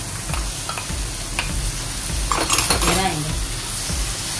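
A spoon stirs prawn gravy masala with tomatoes, chili powder and pepper powder in a pan, scraping and clinking against the metal over a soft sizzle, with a brief louder burst of stirring midway.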